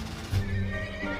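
A horse in Red Dead Redemption 2 gives a clear, close whinny over hoof clopping and low ambient game sound.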